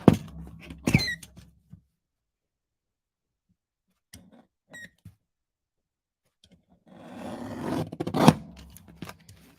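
Scissors snip through card paper in a few short bursts with quiet gaps, close and clear, with a louder run of cutting near the end.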